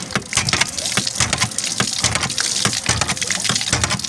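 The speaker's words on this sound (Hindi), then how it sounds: "अब मैं आपको हैंड पंप चला के दिखाता हूँ जी।" Hand pump being worked outdoors, a steady splashing gush of water with rhythmic creaks and knocks from the handle, loud and continuous with no talk.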